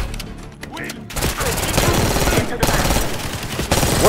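Gunfire fills a Call of Duty Black Ops 6 match with loud, rapid bursts of automatic shots running almost continuously for several seconds.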